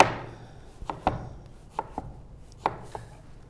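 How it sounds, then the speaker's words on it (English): A knife cutting fresh strawberries into small cubes on a board, about seven sharp, separate chops at an uneven pace, close and clear with no talking. "You're going to slice them up."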